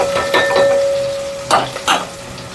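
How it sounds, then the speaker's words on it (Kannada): Onions fry in a pan for mutton sambar, giving a steady close sizzle broken by a few scraping stirs of a spoon, with a faint tonal hum in the background. "ಫ್ರೈ ಮಾಡ್ಕೊಳ್ಳೋಣ."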